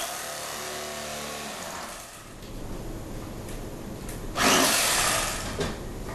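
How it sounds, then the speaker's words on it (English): A Cuisinart electric knife buzzes as it cuts through a smoked salmon fillet, a close motor whine that changes pitch and surges louder partway through, with no talking. "This has been a very good electric knife for me."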